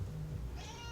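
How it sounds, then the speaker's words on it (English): A house cat meows once, faint and short, in a quiet room near a bass guitar. "it's my cat Kira going nuts"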